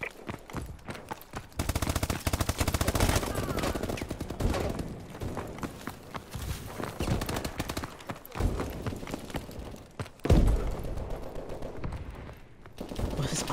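Gunfire from a shotgun in the first-person shooter Call of Duty: Advanced Warfare, dense repeated blasts and clatter through most of the stretch amid busy game noise, loud and near, with occasional voices.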